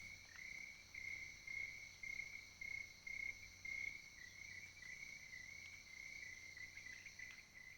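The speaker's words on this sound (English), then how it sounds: "listening to the crickets and the stars" Crickets chirp in a steady, high-pitched rhythmic trill, pulsing in regular bursts against a quiet night background.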